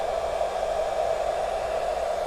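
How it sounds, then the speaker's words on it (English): A hair dryer blows steadily on a sheep with a constant whooshing hum, close by and uninterrupted for a couple of seconds. "I'm just going to put the hairdryer on it a wee bit to see if it comes round."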